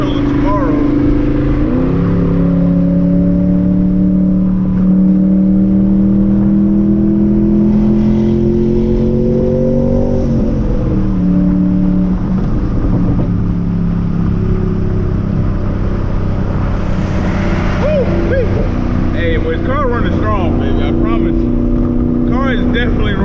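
A 1000HP Mustang engine pulls hard while driving, a loud sustained drone rising steadily in pitch, dipping at a shift, then climbing again close up and continuous throughout.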